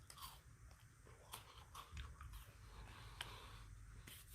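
Close, quiet bites and crunches of a frozen chocolate bar, several sharp cracks at irregular intervals followed by soft chewing.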